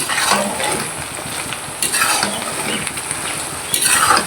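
Tripe frying and being stirred in a pan: a steady crackling sizzle with scraping utensil strokes against the metal, a couple of sharper bursts of clatter, close and continuous with no talking.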